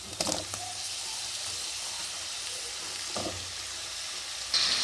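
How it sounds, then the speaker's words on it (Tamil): Chopped bottle gourd pieces dropped into a hot pan, with a loud initial burst of sizzling that settles into a steady hiss, then a couple of soft stirring knocks and a sharper clatter near the end. "இப்போ நாம் அறுத்து வச்சுருக்கிற சுரக்காவை போட்டுடலாம்."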